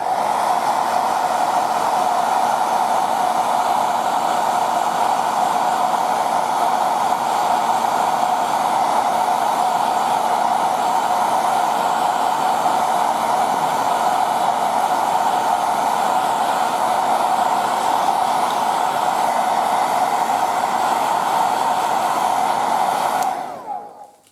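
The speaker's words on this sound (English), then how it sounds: "So let's use the air dryer again." A hair dryer blows steadily and loudly for over twenty seconds with a constant whooshing roar, then switches off abruptly at the end.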